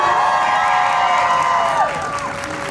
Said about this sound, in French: je veux entendre des cris.